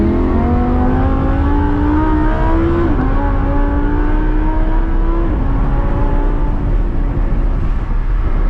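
A Lamborghini Huracan LP580-2 accelerating hard on a drive, its engine a loud close droning roar that climbs steadily in pitch, with two brief dips at gear changes before rising again.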